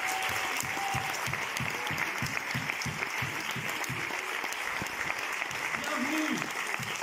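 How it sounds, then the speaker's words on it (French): Audience at a film premiere applauding steadily, a dense wash of clapping with distinct individual claps up front, continuing throughout at a moderate, even level. "On les applaudit bien fort."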